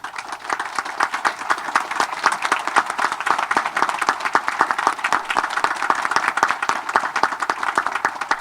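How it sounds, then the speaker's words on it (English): Sustained applause from a ceremony audience honoring the family of a late honoree, dense steady clapping filling the whole stretch without a break. "Round of applause for the Field family."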